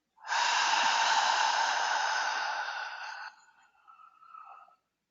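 A single long, deep inhale during a guided breathing exercise, close and airy, holding steady for about three seconds before trailing off into a softer breathy tail.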